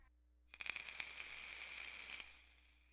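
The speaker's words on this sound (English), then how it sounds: "The sound of an e-cigarette." An e-cigarette is vaped in a faint, close hiss that starts abruptly with small crackling pops, holds a steady sizzle for about two seconds, then fades out.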